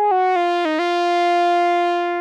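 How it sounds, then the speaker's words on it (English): Dry synth playing a unison line alongside a trumpet part without colour box saturation: a clean, sustained harmonic tone that steps through a few pitch changes, then holds a long note alone. "For the synth sound, without the color box, it sounds like this."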